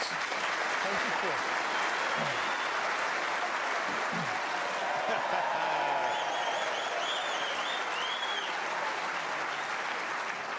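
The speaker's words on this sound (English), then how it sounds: "He encouraged the crowd to applaud more, Hawkins" A snooker crowd at the World Championship semi-final applauds steadily and warmly for the full stretch, a broad dense wash of clapping with a few faint cheers or whistles rising over it.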